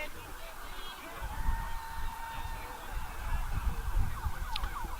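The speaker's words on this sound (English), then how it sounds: "Sirens, looks like an ambulance going down Anderson Mill Road" An ambulance siren wails in the distance along Anderson Mill Road, rising and falling beneath steady ballpark crowd noise and chatter at a high school baseball tournament game.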